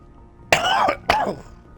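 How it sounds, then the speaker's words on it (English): Two sharp, loud coughs sound close to the microphone in quick succession, each a harsh throat-clearing burst, with no talking. "While I'm dying with coughing"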